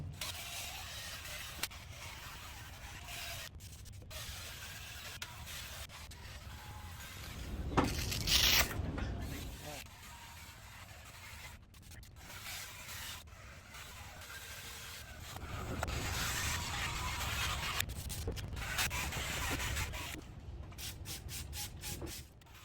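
Wet sanding of a car headlight lens with sandpaper from a restoration kit, a steady scratchy rubbing that swells and fades in long strokes, with a brief louder burst partway through and occasional clicks and handling noises.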